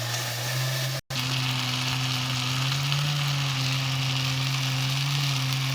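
Jackfruit curry masala being sautéed in oil until the oil separates gives a steady close sizzling hiss with a faint hum beneath, cut by a brief dropout early on, with no talking.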